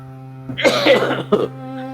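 A man gives a short burst of harsh coughs close by, two rough hacks over a steady electrical hum.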